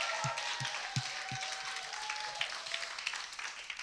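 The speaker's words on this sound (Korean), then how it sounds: "우리 그분께 우리 박수와 환호성으로 한번 영광을 올려드립시다." A church congregation claps and cheers during a Korean worship service, a sustained wash of applause with a few sharper claps standing out in a large room.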